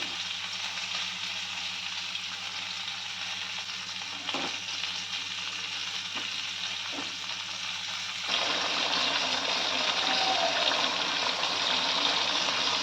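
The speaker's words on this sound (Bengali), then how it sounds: "আলু এঁচড় ভালোভাবে সিদ্ধ হওয়ার জন্য দিয়ে দিব পরিমাণ মতো জল" Water poured into a pan of simmering potato and green jackfruit curry makes a steady close hiss and sizzle, brightening and growing louder partway through, with no talking.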